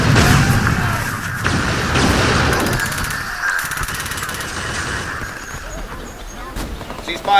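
Covering gunfire in a science-fiction audio drama: a rattling volley of shots and booms amid battlefield noise, with shouting voices over it.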